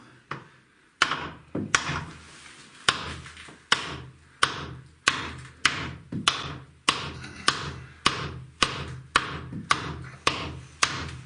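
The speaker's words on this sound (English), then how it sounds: "Maybe turn the hammer sideways to start off with." Inside a cave, a hammer strikes wood in a steady series of about eighteen sharp, loud knocks, each ringing briefly off the rock walls, with no talking.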